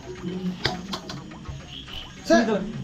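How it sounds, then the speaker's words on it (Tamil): A frog croaks near an outdoor cooking spot in Valparai, its short rough calls mixed with insect-like chirps and people talking nearby. "தவளை வந்திருக்கு அவ்வளவுதான்."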